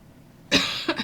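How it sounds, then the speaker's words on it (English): A single close, sharp cough followed by a smaller second one, loud against a quiet room with no talking. "I've barely coughed all day."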